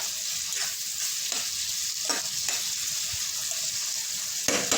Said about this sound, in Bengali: টমেটোটা দিয়ে এখন আমি আদা রসুনটা দিয়ে দেবো বন্ধুরা